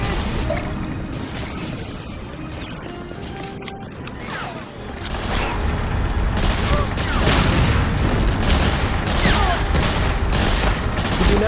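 In the war video game Medal of Honor: Frontline, rapid gunfire rattles at a tank's wheels, with sustained bursts, booms and mechanical clanks growing louder in the second half.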